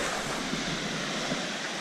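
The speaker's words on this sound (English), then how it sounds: "awesome to wake up to the sound of the waves" Ocean waves wash onto the shore beside a beach campsite in the early morning, a steady, broad hiss of surf with faint wind, close and continuous, no voices.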